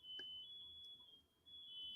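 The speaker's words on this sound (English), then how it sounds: "And now there's some kind of alarm going off somewhere." A high-pitched electronic alarm beeps steadily somewhere, faint and distant, holding a continuous tone for about two seconds with a brief dip.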